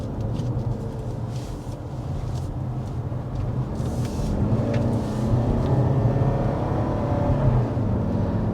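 Inside a 2023 Toyota RAV4 Hybrid driving along a road, a continuous low rumble of tire and road noise swells gently as speed builds, steady and moderately quiet.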